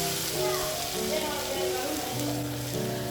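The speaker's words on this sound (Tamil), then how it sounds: "இப்போ நம்ம பொரிச்சு வச்சுருக்க கருவாடை இந்த வெங்காயத்தில் சேர்த்துடலாம்" Dried seer fish, already fried, sizzles steadily in a pan with softened onions, a continuous close frying crackle with faint stirring and no talk.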